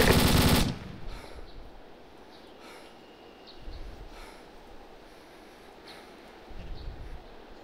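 Rifle gunfire in Arma during a Shack Tactical raid: one loud close burst at the start, then faint distant shots and rustling ambience in a quiet outdoor setting.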